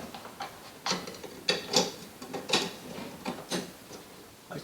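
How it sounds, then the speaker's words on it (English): A bulb socket twisted and clicked into a Mercedes ML W164 headlight housing, giving a handful of short plastic clicks and ratcheting ticks up close, with no talking. "I'm going to put the socket back in just to keep it out of the way."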